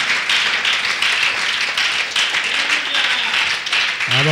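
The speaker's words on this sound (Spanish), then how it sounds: "¿Cuántos pueden darle un fuerte aplauso a nuestro Dios en esta tarde?" A church congregation applauding during a Spanish-language afternoon service, steady dense clapping throughout, loud and close, with a voice rising faintly near the end.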